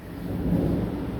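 Heavy rain with thunder over a street, a deep continuous rumble blending into the steady wash of falling rain, close and fairly loud, with no voices.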